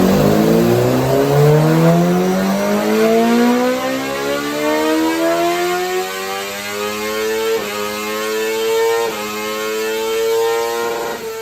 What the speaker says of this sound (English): So we got a GSXR750 on the dyno 2012.